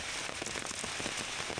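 Steady rain pours down on a walled compound at a quiet, village-like spot in Malad, Mumbai, making a dense, even hiss with scattered patter throughout and no voices.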